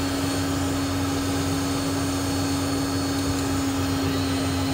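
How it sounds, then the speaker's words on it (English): A Cessna Citation 501SP's right jet engine spooling up during a cross-generator start, a loud, steady whine and rushing roar with a strong sustained tone, heard close and continuous. "Now let's start the right engine."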